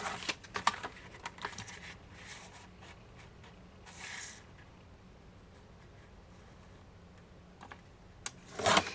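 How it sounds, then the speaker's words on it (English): Paper trimmer slicing through paper for a kids' craft, with light scraping and rustling bursts, a soft swish of the blade, and a sharper crinkling cut near the end, close and quiet without voices. "Using a paper trimmer, we're going to cut the longest lines,"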